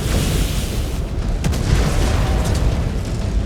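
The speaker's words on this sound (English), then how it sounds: "Incoming missile." A missile explosion in a video game booms low and heavy, its deep rumble rolling on for several seconds, with a few sharp bursts on top.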